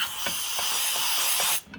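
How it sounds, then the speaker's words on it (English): Short blast of compressed air hisses onto the bottom end of a Husqvarna 268XP chainsaw engine, close and loud for about a second and a half, then cuts off abruptly. "Give it just a little shot of air"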